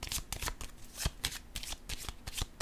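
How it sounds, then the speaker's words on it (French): Cards tap and slide on a table in a quick run of about a dozen close, crisp flicks and soft slaps, like cards being laid down and handled during a card reading. "Je vais déposer une carte ici,"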